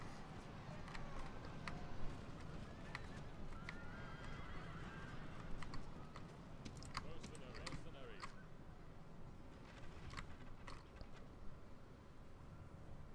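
Horses of cavalry and horse archers in a strategy video game, with whinnies and clip-clop hooves under a dense, faint, steady battle din, crisp clicks scattered throughout.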